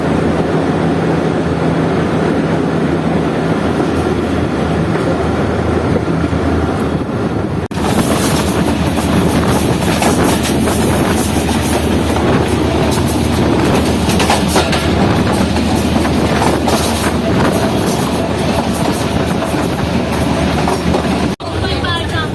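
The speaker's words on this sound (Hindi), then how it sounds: "ट्रेन अप्रोच कर रही है सन रेलवे स्टेशन पर, जहाँ पर ट्रेन का स्टॉप है तो नहीं" A Mohen Jo Daro passenger train rolls loudly into a railway station on the Karachi to Sehwan line, with steady rumbling, rhythmic clickety-clack of the wheels and wind noise, and the sound grows louder and harsher about a third of the way through.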